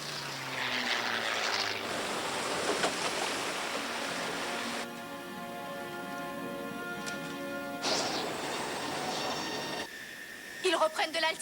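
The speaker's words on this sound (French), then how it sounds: "Les moteurs viennent de repartir." Propeller aircraft engines in an animated adventure cartoon cough back to life as the plane drops toward the sea, settling into a steady droning hum under a wash of rushing noise and background sound effects.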